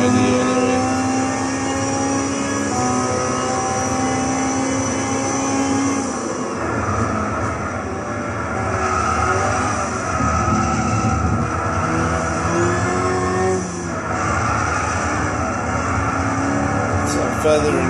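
Amuse S2000 GT1 Turbo race car in Gran Turismo 6 at Silverstone, engine droning steadily with shifting harmonic pitch as the throttle is feathered, continuous and fairly loud throughout.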